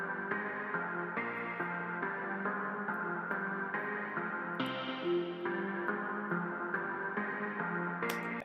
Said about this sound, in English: Again, this just sounds like this kind of weird piano sound.